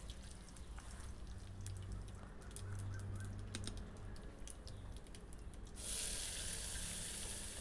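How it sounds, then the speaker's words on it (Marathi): Cumin, mustard seeds and curry leaves sizzling in hot oil as a tempering for chutney, heard close up as a steady crackling fry dense with sharp pops and spits, growing to a louder hiss near the end. "तेल छान गरम झालं की यामध्ये थोडेसे जिरे, थोडीशी मोहरी आणि कढीपत्त्याची फोडणी करायची"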